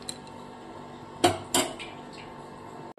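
A metal lid clanks onto a cooking pot of fish curry, two sharp close clatters, then quiet kitchen background.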